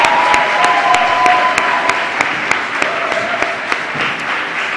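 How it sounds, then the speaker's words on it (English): A crowd at student union hustings for presidential candidates applauds steadily and loudly, dense continuous clapping with no talk over it. "can we have a round of applause for the presidential candidates"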